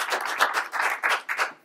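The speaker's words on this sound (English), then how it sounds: "let's have a big round of applause for our terrific panelists" An audience claps for a panel of speakers at a civic discussion event, steady applause rising and falling over a short burst.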